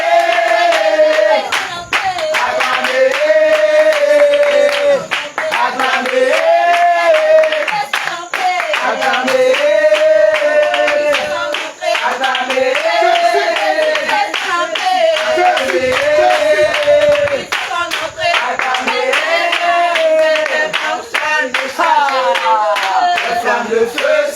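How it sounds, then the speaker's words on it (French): A congregation at a church revival in Angré, Côte d'Ivoire claps in steady rhythm for the whole stretch. The clapping sits under loud, continuous singing voices. "acclamez, acclamez, acclamez"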